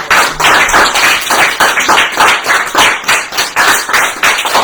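A church congregation claps together to acclaim the Lord, producing a loud, steady burst of many overlapping hand claps in a fairly regular rhythm. The clapping fills the room and continues without pause.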